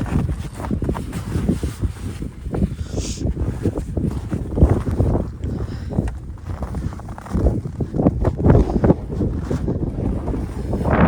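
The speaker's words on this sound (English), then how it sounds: "A little windy out here." Strong wind blows outdoors in snowy remote interior Alaska, buffeting the microphone with loud, gusting rumble and rustling that never lets up across the whole stretch.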